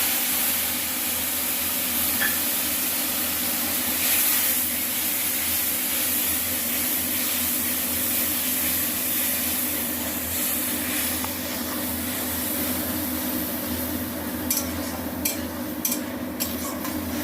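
Tomato and ripe red chili paste sizzle in a pan with a steady, even hiss that carries on throughout, fairly quiet and with no voices.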